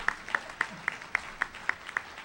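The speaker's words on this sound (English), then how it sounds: "The Students' Loan Bureau, please clap them." An audience at a graduation ceremony claps, with distinct evenly spaced claps coming through about four times a second, faint and at a distance in a large hall.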